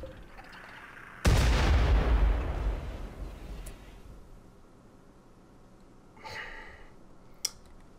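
A single heavy mortar blast from the video game RimWorld booms loudly and then rolls away in a long decaying rumble, with a softer whooshing burst and a sharp click a few seconds later.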